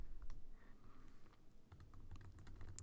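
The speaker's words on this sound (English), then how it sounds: "Type in A's" Keystrokes on a computer keyboard, a quick run of clicks repeating the same key during a Python coding exercise, close and clear with no talk.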